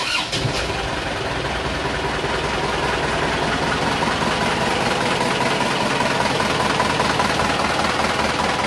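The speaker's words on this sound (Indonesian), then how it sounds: "sambil kita nyalakan dulu mesinnya" Diesel engine of an Isuzu Panther idling steadily after being started, a loud, continuous low rumble with a fine knocking texture that holds even throughout, with no talking.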